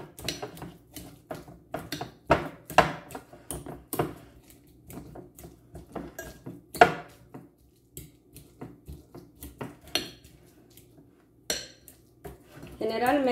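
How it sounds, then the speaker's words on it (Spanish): Ripe avocados being mashed with a fork in a bowl for guacamole, a series of irregular scraping clinks and soft squishes of metal on dish, close and fairly loud, with brief pauses between strokes. "Entonces solo los vamos a apretar así con un tenedor."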